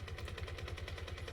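Battlefield 2042 gunfire, bullets nicking a wooden crate: a dense, continuous rattle of rapid automatic shots with regular pulsing impacts, steady and fairly loud throughout, no talk.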